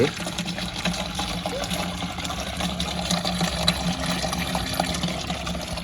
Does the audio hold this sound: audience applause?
no